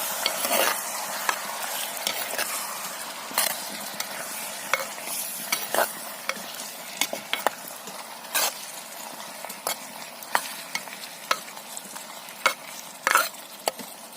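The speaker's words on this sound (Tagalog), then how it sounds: "haluin natin" A spoon stirs squid adobo in a pan, clacking and scraping sharply at irregular intervals over a faint steady sizzle. The sound is close and there is no talk.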